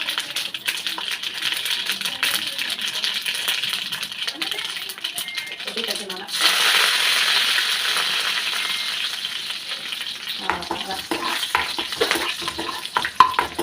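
Mustard seeds and curry leaves fry in a hot pan, giving a steady crackling sizzle that swells louder midway and then turns into stirring clatter, with a person talking over it.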